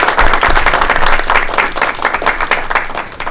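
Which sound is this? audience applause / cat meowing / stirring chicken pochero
audience applause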